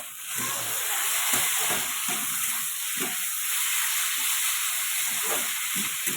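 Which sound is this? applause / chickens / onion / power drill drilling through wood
onion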